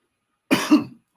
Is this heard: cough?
yes